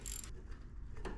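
A ratcheting box wrench works a 14 mm bolt on the front suspension of a Datsun 521 diesel 4x4 pickup, giving faint, brief ratchet clicks in short bursts near the start and end, with no voices.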